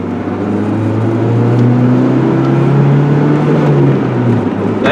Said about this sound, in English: The engine doesn't really sound too bad.